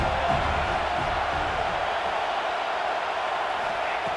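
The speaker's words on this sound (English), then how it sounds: "3rd down, and the crowd really getting into it" A stadium crowd in a college football video game roars steadily on third down in an ACC Championship game, a dense, continuous wash of cheering with no pauses, loud and unbroken throughout.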